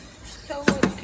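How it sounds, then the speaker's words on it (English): Metal whisk strokes broth in a pan, heard as two quick, close clinks of whisk against the pan over a quiet kitchen background. "Just keep a whisking."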